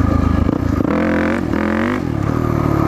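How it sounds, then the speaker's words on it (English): A dirt bike engine, fitted with a rear-fender light, revs up and down in quick throttle blips, the pitch rising and falling loudly and close, with no one talking. "Just give it a blip on the throttle."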